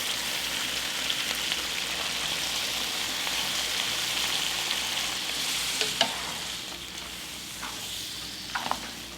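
Noodles fry in a pan with snap peas, carrots and sauce, making a dense, continuous sizzle with a few sharp clatters of stirring near the end.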